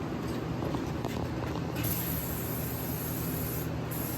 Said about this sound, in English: I'm going to flip these parts over and spray them